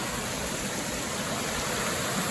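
Small cascading waterfalls at Hardcore Cascades on the Appalachian Trail pour in a constant, dense rushing hiss, steady and fairly close, with no voices.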